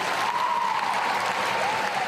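A crowd applauds and cheers steadily after a small concert, with a dense, continuous wash of clapping throughout.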